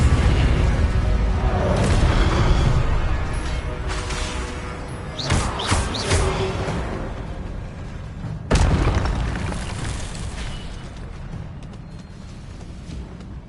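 Spell explosions from Incendio and Confringo in the Hogwarts Legacy video game: loud booming blasts with sharp bursts around the middle and a heavy hit near the end, over a constant rumbling game backdrop.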